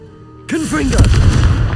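Confringo blast fired in Hogwarts Legacy: a sharp explosive burst with a rising whoosh, followed by a sustained rumbling roar and crackle that carries on loudly to the end.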